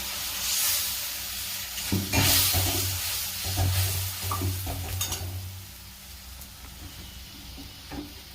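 Water used to rinse spices is poured into a hot pan of Bengali bata fish curry with tomato and green chilli paste, setting off a sharp sizzle and hiss, with stirring and faint clinks of a utensil against the pan.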